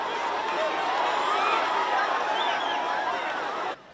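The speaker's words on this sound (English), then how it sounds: "thousands of worshippers massed at the entrance of the grounds" Thousands of worshippers massing at the entrance of the grounds of a Mass venue, a dense continuous babble of many voices with shouting and movement, fairly loud before cutting off abruptly near the end.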